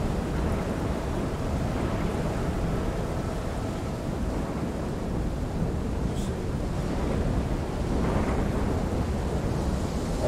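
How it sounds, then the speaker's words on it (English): Steady rain in the video game Fictorium, a dense, constant hiss and wash with a low rumble that may be thunder, continuous and fairly loud with no talking. "I just noticed the rain is coming through the roof"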